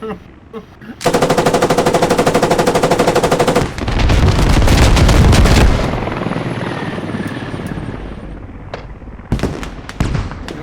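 Automatic machine gun fire in the tactical shooter Squad: a long, rapid, evenly spaced burst, then a heavy rumbling roar with scattered sharp shots and thuds trailing off.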